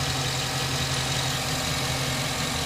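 A 2009 GMC Sierra Z71 4x4 with a 5.3-liter Vortec V8 idles close by, a steady low rumble with a constant hum and no voices.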